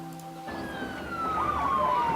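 A police or ambulance siren in the city-building game SimCity wails in a long, steadily falling electronic sweep. It is fairly loud over a busy rumble of game traffic and ambience, with no talk.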